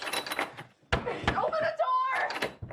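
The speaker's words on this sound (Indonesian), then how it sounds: "segera mengetuk-ngetuk pintu garasi" Banging and knocking on a garage door in a tense film scene, several heavy thuds and knocks mixed under a talking voice and other film sound.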